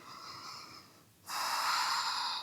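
Breathing during a warming hatha yoga session: a soft, airy exhale fades into a short pause, then a stronger, louder breath follows, close and alone.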